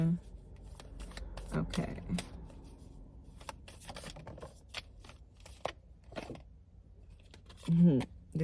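Tarot cards shuffled by hand in soft, riffling bursts, with a person talking briefly over them.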